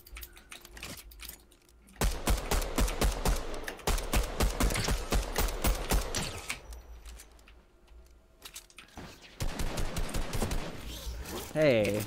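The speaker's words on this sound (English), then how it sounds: "Who's just shooting at me?" Rapid bursts of gunfire in the video game Fortnite rattle out in quick trains of sharp shots, stopping and restarting in several bursts, with talk mixed in.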